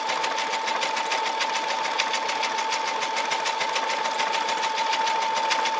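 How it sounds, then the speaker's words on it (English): A Brother SE630 sewing and embroidery machine stitches a small cross-stitch pattern at a moderate, quick pace. Its rapid, even needle rhythm and motor hum stay close and continuous throughout. "it's sewing at a pretty moderate and quick speed"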